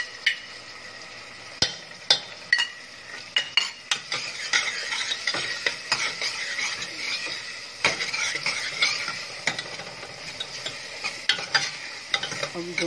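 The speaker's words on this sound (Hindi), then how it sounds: "अब दोनों को हल्का पिंक होने तक भूनेंगे" Onion with garlic, ginger and green chili paste frying in a pan, a soft steady sizzle broken by repeated sharp clinks and scrapes of a spoon stirring against the metal, close up and without speech.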